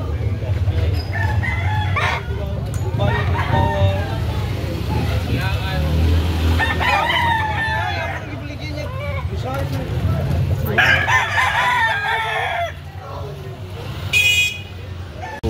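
Roosters crowing at a rooster expo, several loud nearby crows overlapping, with people talking and engine noise in the background throughout.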